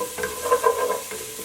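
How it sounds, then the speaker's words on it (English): Celery and onions cook in a pot for a pasta dish, heard as a soft, close sizzle with a few light stirring scrapes over a short stretch. "So I've been cooking my celery and my onions for 4 minutes"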